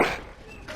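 A dog whimpering in the video game Dragon Age: Origins, a short, faint whine with a brief yip at the start, heard alone in a quiet scene.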